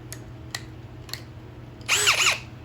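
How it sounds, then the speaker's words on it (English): A power drill used for making jump rings gives a short, fast whirring burst that sweeps up and down in pitch, after a few faint clicks in a quiet room. "And my drill spins fast."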